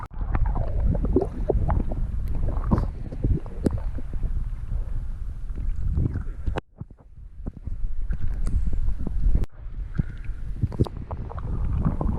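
A tour boat moves along the water at Wakulla Springs, Florida, with a rumbling motor and wind buffeting the microphone, briefly dropping out twice.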